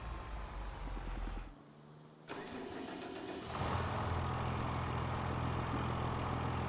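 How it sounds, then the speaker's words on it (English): Challenger tractor engine in Farming Simulator 25 cranks and dies briefly, then fires and settles into a steady, loud idle. "jump in our Challenger, fire it up for one last time"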